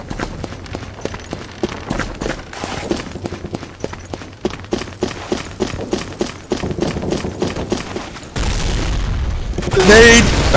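A grenade goes off in the video game Day of Defeat: Source, a loud heavy boom near the end that follows a stretch of footsteps and scattered gunfire.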